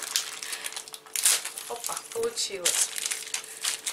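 A crinkly plastic package is opened up close, giving loud crackling and rustling throughout, while someone speaks briefly in Russian.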